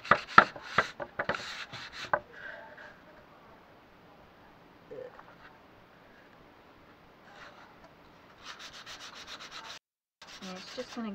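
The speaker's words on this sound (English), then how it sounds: "you could just take your sandpaper and you're going to sand off" Sandpaper rubbed by hand across a painted board for a distressed finish, a run of rapid scratchy strokes at the start, then quieter scraping and further bursts of sanding strokes near the end, fairly close.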